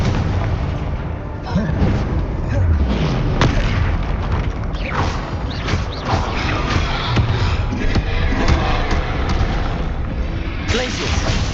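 Confringo spell blasts in the Hogwarts Legacy video game sound as repeated booming explosions layered with magical whooshes and crackling debris, loud and close, over a dense, constant game mix with a voice calling out at times.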